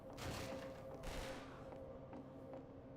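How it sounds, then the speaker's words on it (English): Gunfire in Half-Life 2 during a rooftop chase sequence: muffled, distant bursts of shots over a low, steady game ambience. "I hear gunshots."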